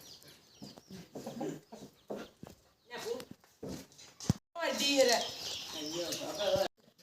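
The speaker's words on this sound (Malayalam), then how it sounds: "കോഴിക്കുഞ്ഞിതാ മീത്ത" Chicks cluck and peep in short bursts, growing busier and louder toward the end, with a person talking softly in between.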